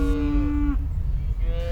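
Young calves mooing in a Maasai cattle setting in Tanzania or Kenya, two drawn-out bellowing calls close by, the first longer and falling off, the second starting near the end.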